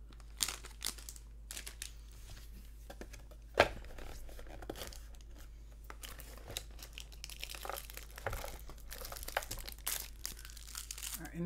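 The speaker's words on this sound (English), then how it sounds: "So we're opening the Elite Trainer box." Plastic wrap being peeled off a Pokemon Sword & Shield Chilling Reign Elite Trainer Box, close and fairly quiet irregular crinkling and crackling with one sharper pop near the middle.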